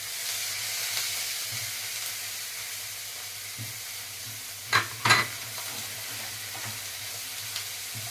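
A ground raw green-chili masala paste with ginger-garlic paste fries in a pan for an Andhra prawn curry: a constant soft sizzle and hiss, with two sharper spitting bursts in the middle and no voices.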